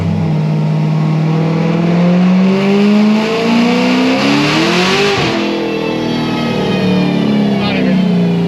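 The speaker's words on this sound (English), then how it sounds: "let's see if we can get this thing to hook enough to try and do a 4-5 shift" An RPM Stage 5 C7 Z06 with an automatic transmission accelerates hard, its engine note climbing loud and close through a gear change with a hint of tire squeal, and a voice speaks briefly over it.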